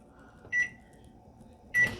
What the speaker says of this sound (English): We're gonna melt this in the microwave for about 30 seconds.